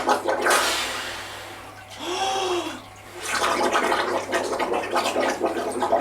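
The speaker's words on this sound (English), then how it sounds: "I blow out through the surface of the water, feel the end of the water on my lips, and as I go back in, I'm actually still blowing out." A swimmer doing front crawl breathing drills blows bubbles out into the water, giving a close, wet gurgling and bubbling sound amid splashing water that swells and fades over several seconds.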